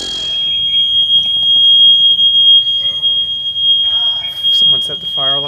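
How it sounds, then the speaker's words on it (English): Fire alarm in a Hawaii Airbnb rental, a loud continuous high-pitched electronic tone sounding throughout while people talk over it. "someone set the fire alarm off."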